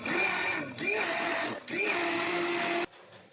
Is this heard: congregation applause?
no